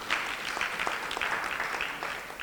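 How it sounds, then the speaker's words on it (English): Panel session audience clapping briefly for the panelists, a steady moderately loud patter of many hands with individual claps standing out, no talking. "let's give them a round of applause."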